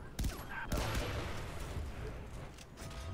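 Burst gunfire in the shooter game Far Cry Blood Dragon: two sharp, loud volleys of rapid shots close together near the start, then a rattling decay with scattered fainter pops.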